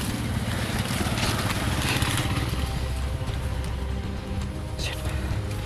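Motorcycle engine running as a steady low rumbling drone, continuous and fairly close, with rough background noise throughout.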